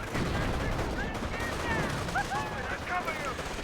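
Rapid bursts of rifle and machine-gun fire crackle continuously in a Company of Heroes battle, with shots overlapping densely at close range and no pauses.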